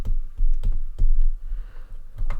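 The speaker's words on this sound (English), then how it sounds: "So there's a little click hinge right here." A Lego click hinge on a Transformers-style Ripjaw build is worked back and forth, giving a run of sharp, close plastic clicks and ratchets at an uneven rhythm with no talking.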